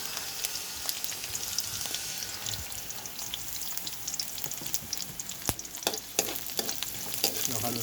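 Fish steak, garlic and onion frying in a pan, a dense crackling sizzle with frequent sharp pops and spatters as the food is stirred, close and continuous.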